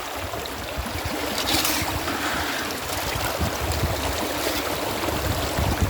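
Fast water rushes through a gold sluice box set on a gravity mat, a steady, loud, close churning wash that runs throughout without talk.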